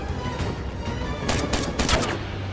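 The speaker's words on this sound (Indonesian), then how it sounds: "Baku tembak pun terjadi." Gunfire exchange in an action film with special forces fighting snipers across a wide location: dense background battle noise, with two louder bursts of shots in the second half.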